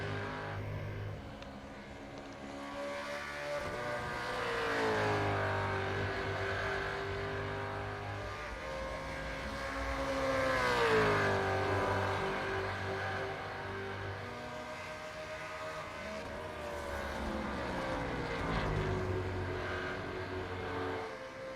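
Super2 race cars lap Phillip Island Circuit in the iRacing sim, engine notes rising and falling through gear changes in a continuous droning whine, loud and steady with no voices.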